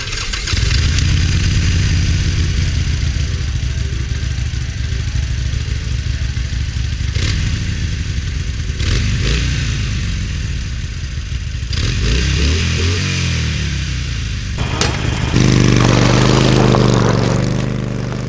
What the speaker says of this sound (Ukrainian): Ну і звичайно, як звучить Харлей.